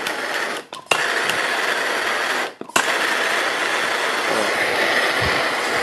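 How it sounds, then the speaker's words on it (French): A blowtorch lit for low-temperature tin soldering gives a loud, steady broadband roar, broken by two brief cutouts and relights, with no talking. "Donc on va allumer le chalumeau, mais on peut le faire aussi avec une lampe à souder."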